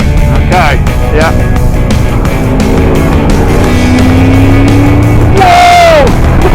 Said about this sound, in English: TVR on the racetrack